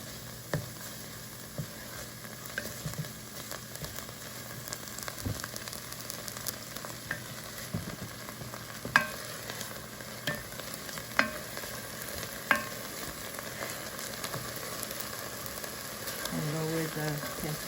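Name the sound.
tomato paste sizzling in a pot on an electric stove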